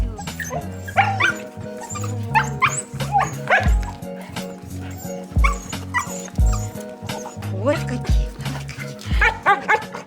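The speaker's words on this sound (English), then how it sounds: "greet her with their joyful barking" Many dogs bark and yip in a continuous excited chorus, loud and close, with a voice speaking over the racket.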